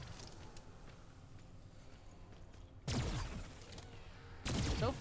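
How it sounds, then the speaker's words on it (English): A Rune Cannon rifle-style weapon fires in the Wayfinder video game, two loud bursts of crackling shots standing out above a low rumbling game background. "this is a Rune Cannon. It's a rifle-style weapon."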